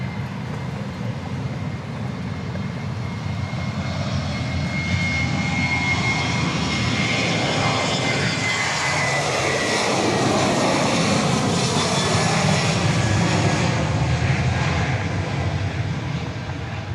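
A Southwest Boeing 737-800 bound for Midland, Texas at Dallas Love Field, a loud, sustained jet engine roar with a shifting whine as it passes, with no voices.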